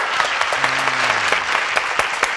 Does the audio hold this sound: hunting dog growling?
no